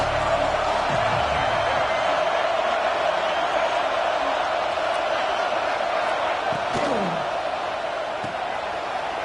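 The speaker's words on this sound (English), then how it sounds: "This crowd bringing the energy and noise early" A football stadium crowd at the Michigan vs Texas game keeps up a constant, dense roar, with a few faint thuds and shouts rising briefly out of the noise.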